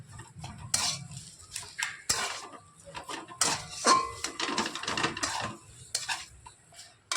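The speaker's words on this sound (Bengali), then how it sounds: "এবার সব কিছু নাড়াচাড়া করে মিশিয়ে একটা ডোর মতো করে তৈরি করে" A spoon stirs and mixes grated raw potato dough with spices in a bowl, making close, irregular scraping and clinking strokes against the dish, with brief quiet gaps between them.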